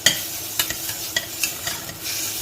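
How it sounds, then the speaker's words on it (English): Onions sauté and brown in a pan for pumpkin soup, a continuous close sizzle with quick stirring scrapes and light utensil taps every fraction of a second, and no one talking. "So you're going to completely saute these onions"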